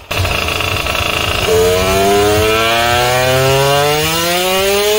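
A water-cooled 88cc Puch Maxi moped engine revs hard and loud up close, its pitch climbing steadily after a sharp jump, a high buzzing whine that holds near top revs.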